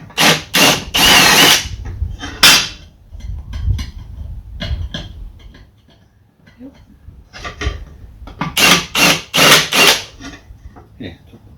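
A power tool strips a small burr off a metal part on a converted Barbie bus RC bug body, in short loud buzzing bursts separated by pauses, with quieter handling noises between them.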